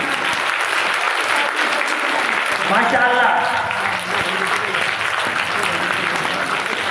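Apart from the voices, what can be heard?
audience applause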